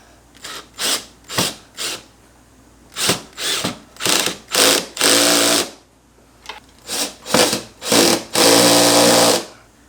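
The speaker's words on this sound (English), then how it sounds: "I'm going to torque them down a little bit with this drill." A power drill torques down spoiler screws on a Lexus GX470, running in about a dozen short bursts, each whirring briefly then stopping, with a couple of longer steady runs, loud and close with no talk.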